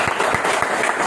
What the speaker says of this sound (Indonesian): Oh, luar biasa. Tepuk tangan dulu lah.